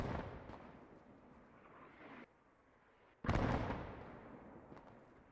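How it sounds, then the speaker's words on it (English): Mortar fire in Post Scriptum, a WW1-style battle: one distant blast rumbles away, then a second louder close boom hits and decays, with no talk. "His mortar's going out."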